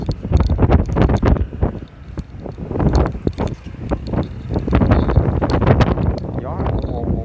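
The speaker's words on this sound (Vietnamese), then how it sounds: "Gió muốn bay luôn." Strong wind buffets the microphone on the Đại Ninh mountain pass in Bắc Bình, loud gusty roaring and rumbling throughout with irregular bursts, while a person talks underneath.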